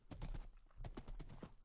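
A horse gallops in the Minecraft video game, its hooves clip-clopping in a quick, steady rhythm that repeats throughout, fairly close and alone without talk.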